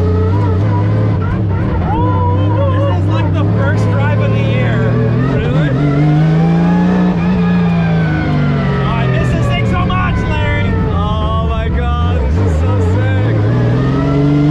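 A 2JZ-swapped Nissan, roughly 800 hp, holds a loud sustained burnout in a burnout box, the engine droning steadily at high revs while its pitch rises and falls, with people talking over it throughout.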